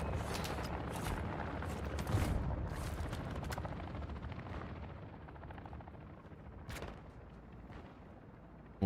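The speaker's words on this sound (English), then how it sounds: "Oh, they saw the chopper come in." A helicopter flying in to a landing zone in the military shooter DMZ, a heavy rotor rumble with distant gunfire and booms, loud at first and slowly fading.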